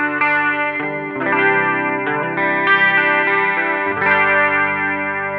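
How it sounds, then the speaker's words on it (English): Sustained electric guitar chords through a Line 6 Helix modeling a Jazz Rivet 120 amp ring out with heavy effects, each strum blooming into a long, roughly two-second washy reverb tail that overlaps the next. "Let's turn this reverb up a little bit here."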